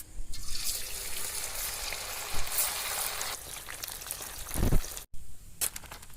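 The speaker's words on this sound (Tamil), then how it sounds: "மசாலா கலக்கி வச்சு மீன் எண்ணெயில் போட்டு" Marinated fish frying in hot oil, a loud continuous sizzle and crackle with bursts of spattering, recorded outdoors up close.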